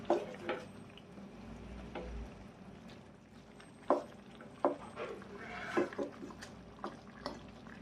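A spoon stirs mutton paya (goat trotters) simmering in a pot, giving soft intermittent scrapes and wet knocks at irregular intervals over a low, quiet bubbling background.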